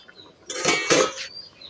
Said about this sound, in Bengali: ঢাকাটা তুলে নিচ্ছি।